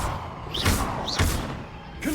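Hogwarts Legacy gameplay with the Arresto Momentum spell cast, giving dense whooshing magical bursts and a couple of low thuds that repeat about every half second over a busy game sound bed.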